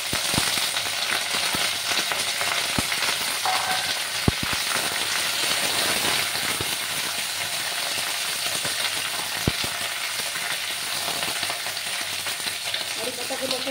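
Curry leaves and black mustard seeds sizzling in hot oil for a cucumber mung dal, a steady close crackling fry with scattered small pops throughout.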